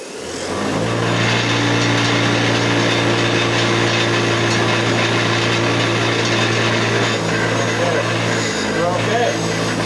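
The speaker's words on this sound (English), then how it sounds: "I'm gonna hit that with the wire wheel." A wire wheel on a motor grinding an old wooden-handled screwdriver: a loud, continuous whirring drone with harsh scraping hiss, spinning up at the start and holding steady close by, with a slight drop near the end.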